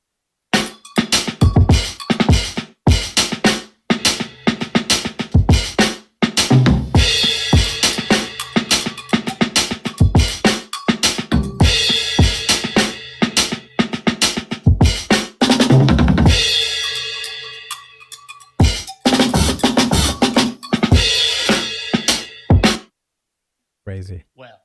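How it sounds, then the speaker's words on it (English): A chopped drum beat from a music production plays loud and up front, with choppy, stuttering cuts, abrupt gaps and changing sections before it stops near the end. "at the end of this one, I kind of chopped those drums again to make it sound different"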